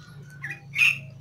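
An Asian pied starling (jalak suren) in moult gives two short squawks, a small one followed by a louder, harsher call, close by over a low steady hum.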